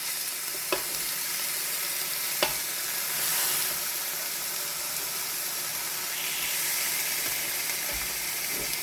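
Meat sizzles steadily in a hot frying pan as it is flipped over, with a few sharp clicks of utensil against the pan over a continuous crackle and hiss.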